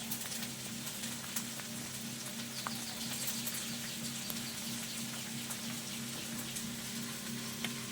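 Food frying in a pan with chopped capsicum, a steady low sizzle running throughout with faint scattered clicks and scrapes from stirring, fairly quiet and without voices.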